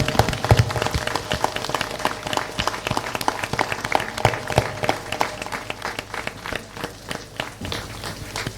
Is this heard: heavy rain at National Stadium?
no